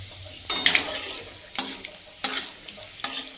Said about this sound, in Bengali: এবার গোটা মশলাগুলো এর মধ্যে দিয়ে দেবো